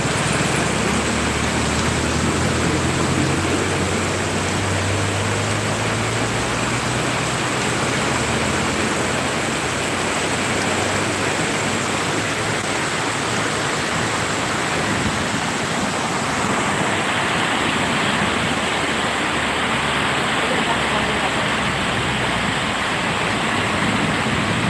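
A heavy downpour in Subulussalam, Aceh, gives a loud, steady roar of rain. A low engine-like rumble sits under it early on, and the hiss shifts slightly later without ever letting up.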